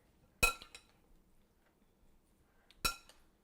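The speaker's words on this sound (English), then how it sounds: "we're just going to toss this together" Salad is tossed in a bowl with a spoon, producing two separate bright clinks about two seconds apart, each followed by a few lighter taps, fairly close and otherwise quiet.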